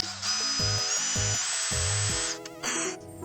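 A power drill bores into wood while building a custom wooden box, giving a loud, steady high-pitched whine that rises slightly in pitch for about two seconds, then stops abruptly with a brief rattle after.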